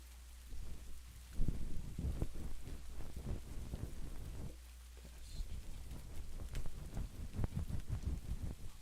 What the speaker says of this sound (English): I think the rain sound might be just a little loud.